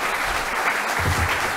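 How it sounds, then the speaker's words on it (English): A conference audience gives a panel a short burst of steady, dense applause from a full room, with no voices over it. "let's give them a big hand of applause"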